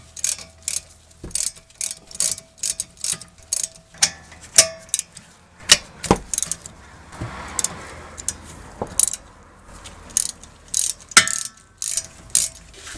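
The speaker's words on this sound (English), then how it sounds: "You can use it with a socket wrench, and these are 7mm," A ratchet socket wrench with a 7mm socket loosens the rear brake caliper slide pins on a 2006 Mazda 3, giving a string of close, crisp metallic clicks in short irregular bursts, with occasional louder clanks and no speech.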